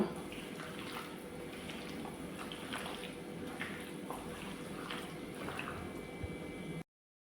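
Water for dum biryani coming to a boil in a pot, a soft continuous bubbling with small pops and drips that stays close and even, then cuts off abruptly at the end.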